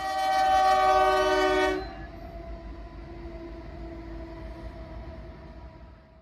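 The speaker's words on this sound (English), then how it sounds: "right there is a grain train heading west being led by the NYC 1066" A westbound grain freight led by NYC locomotive 1066 sounds a loud, close, sustained horn blast that cuts off abruptly. A fainter, steady tone and rolling rail noise continue after it.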